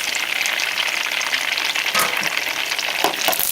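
Egg rolls dropped into hot canola oil fry with a dense, continuous bubbling sizzle, close and steady throughout, with a few louder crackles near the end and no voices.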